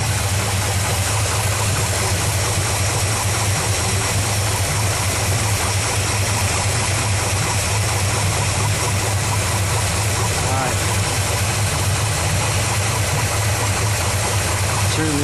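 An old Chevrolet small-block V8 in a van or truck, freshly fitted with a new cam, idles steadily with a constant low rumble and vibration, running without a break throughout.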